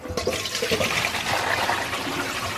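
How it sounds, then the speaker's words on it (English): Water and cooked vegetables pour from a pot into a kitchen strainer, giving a steady, loud rush of splashing liquid that runs the whole time with no talking. "I'm getting ready to pour this off into my strainer"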